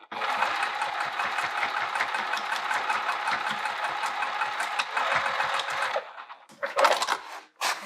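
A sewing machine runs continuously as it stitches a zipper pouch made from an upcycled skirt, its close mechanical chatter steady for about six seconds before stopping, followed by a few short handling clicks.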